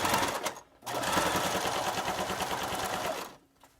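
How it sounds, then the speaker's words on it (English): Sewing machine stitching down the side of a fabric face mask, running in one steady, close, rapid mechanical whir for about two and a half seconds after a brief start, with no talk. "I'm going to sew down the other side."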